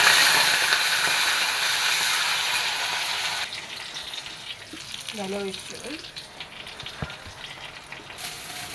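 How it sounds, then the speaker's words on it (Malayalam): Dried red chillies and curry leaves hit hot oil for a sambar and crackle in a loud, hissing sizzle that eases into quieter frying with a few stirring scrapes, and someone speaks briefly. "ഇതാ രണ്ട് മൂന്ന് വറ്റൽമുളക് കുറച്ച് കറിവേപ്പില ഇതൊന്ന് ഇളക്കി കൊടുക്കാം"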